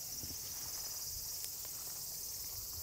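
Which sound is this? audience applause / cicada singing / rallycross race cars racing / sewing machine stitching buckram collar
cicada singing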